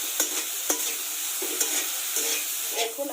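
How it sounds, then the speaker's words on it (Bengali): Figs frying with turmeric and salt in a pan give a close, lively sizzle, broken by repeated scraping stirs and small clicks of a spatula. "এখন আমি কত সুন্দর করে ডুমুরটা ভেজে নিচ্ছি"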